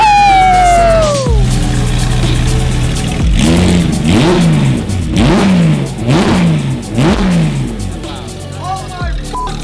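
Porsche 991 GT3 RS fitted with an F1-style exhaust, revving hard in a series of loud, rising and falling blips after an opening high whine, close and dominant, with excited voices mixed in.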